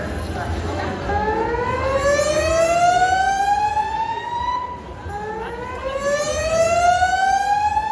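A fire alarm siren wails in long rising and falling sweeps that repeat twice, loud and close, with a public-address announcement about the alarm running beneath it inside a building.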